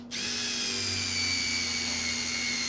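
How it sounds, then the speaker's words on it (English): A power drill with a taper point countersink bit bores a countersink hole in wood, a steady close whine that starts abruptly and holds at an even pitch with no talking. "Let's go ahead and drill for our countersink."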